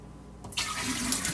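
Cooled brewed tea is poured into a jar to make kombucha, starting abruptly as a close, splashing gush of liquid that keeps running steadily to the end.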